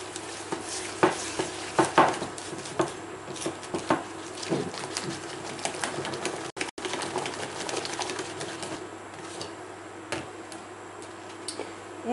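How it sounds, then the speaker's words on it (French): Sugar being whisked for flan parisien gives irregular light ticking clicks of a whisk against a bowl, steady and fairly quiet over a faint background hum. "le sucre, et on va commencer à fouetter."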